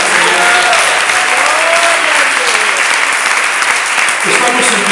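Steady, loud applause from a congregation at a church service, an even wash of many hands clapping without pause while voices rise through it.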